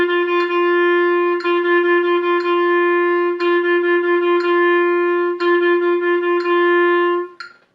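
A clarinet repeats a single steady tone, tongued in quick groups of five-note tuplets alternating with held quarter notes, clear and close with no speech.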